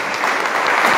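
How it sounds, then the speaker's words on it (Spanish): A church congregation claps together in praise, a dense, loud wash of applause from many hands that runs without pause for the full second. "dele palmas al Eterno"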